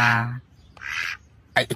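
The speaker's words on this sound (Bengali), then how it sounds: "বাইরে থেকে হাঁস ডাকবার শব্দ আসছে কেন?" A duck quacks a few times in short, loud bursts, close by, with brief pauses between calls.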